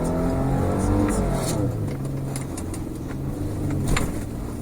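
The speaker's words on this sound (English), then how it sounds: "So now I'm shifting down as I need a bit of power to go on this crest." Mitsubishi Pajero engine revving steadily after a paddle-shift downshift on an off-road crest, a continuous near drone with rising and falling tone, with faint rattles mixed in.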